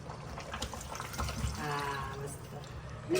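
Water pours into a cooking pot while stuffed crabs are being prepared, a short gurgling stream under background chatter and kitchen noise.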